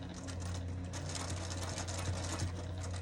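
A sewing machine stitches a fabric bowl cover with a continuous, even mechanical whir and rapid needle clatter, close and steady from start to end, with nobody speaking.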